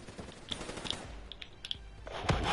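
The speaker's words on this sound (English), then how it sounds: "That sounds like quite a fast gun" A fast-firing gun in Call of Duty Black Ops 3 online multiplayer on PS4, a rapid rattle of shots with scattered sharper cracks, heavier firing swelling near the end, and no talk.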